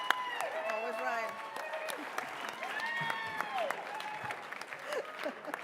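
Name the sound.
audience round of applause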